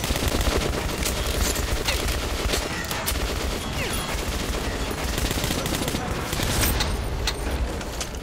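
Gunfire in the video game Metro Last Light, a steady dense barrage of shots filling the clip at constant loudness, with a faint voice now and then underneath.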